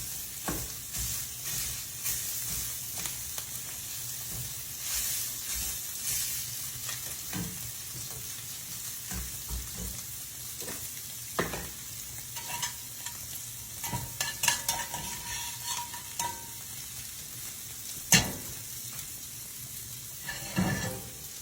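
Chopped peppers and onions sauté in a pan with a continuous close sizzle, broken by repeated scrapes and clacks of a stirring utensil and occasional louder knocks against the pan, with no voices.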